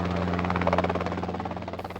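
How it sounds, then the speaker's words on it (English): Robinson R-22 and R-44 helicopters at Torrance Airport give a close, steady rotor beat, a fast rhythmic thumping over a constant low engine hum, with no voices. "Model R-22 and R-44 helicopters take off and land from Torrance Airport"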